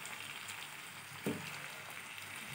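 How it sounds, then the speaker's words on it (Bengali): Chicken being sautéed in a pan for chicken kosha, a faint, steady sizzle with one brief stir or clatter midway, close and without talk. "এই যে চিকেনগুলো এত ভালো, এই যে রান্না হতে হতে হয়ে গেছে, তো এটা আমি কষিয়ে নিচ্ছি"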